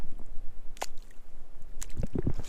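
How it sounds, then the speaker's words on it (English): Footsteps squelching through muddy slop at the water's edge on an outback station track, a few soft wet squishes with sucking, dripping bursts that come close and grow louder toward the end. "About 3 steps in, look at it. Just turns to muddy slop,"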